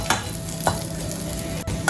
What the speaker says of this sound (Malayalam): ഇതേ നെയ്യിൽ തന്നെ നമുക്ക് കുറച്ച് അണ്ടിപ്പരിപ്പും മുന്തിരിയും വറുത്തെടുക്കണം